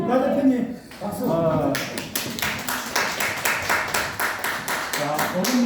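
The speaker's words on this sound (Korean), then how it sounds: "나 대표님 박수" A small indoor audience claps for the group's leader in steady, rapid applause after a few seconds of talking.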